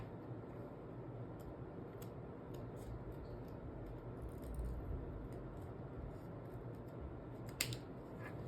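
Scissors cut through cord while a woven launch bag is being made, giving a few faint, quick clicky snips over a steady low background hiss, close but quiet.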